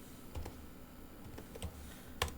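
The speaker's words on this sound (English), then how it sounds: "So let me type here" Quiet clicking of keys on a computer keyboard while entering values into an Excel spreadsheet, a few soft irregular taps over a faint background hiss.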